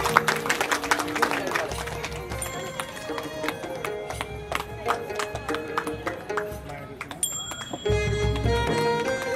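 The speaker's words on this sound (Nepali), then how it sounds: "कृपया जोरदार ताली पनि बजाइदिनु होला" An audience at a Teej celebration gathering claps and applauds in scattered, irregular bursts, with a rhythmic clopping and a voice over a microphone running through the clapping.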